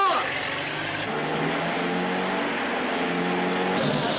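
A 1930s film car pulls away in pursuit with a steady engine drone and rising rev under a voice, the motor staying fairly close throughout.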